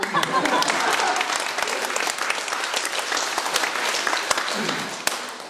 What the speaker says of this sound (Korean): 그리고 저 박수.